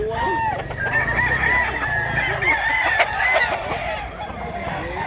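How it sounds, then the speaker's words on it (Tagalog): Roosters, including an over-six-year-old Black Hennei, crow loudly and repeatedly while chickens cluck in the background, a busy, close farmyard chorus with no talking. "Daghan pagig manok diri mga idol"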